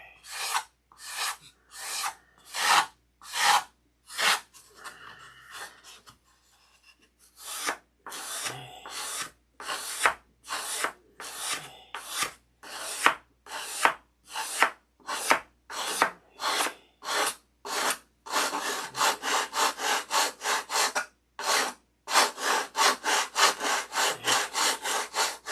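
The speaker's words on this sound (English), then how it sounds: "I'm sanding cross grain." Hand sanding a wooden stick across the grain while rolling it, a steady run of rhythmic rasping back-and-forth strokes, close and dry, with a brief pause and then faster strokes near the end.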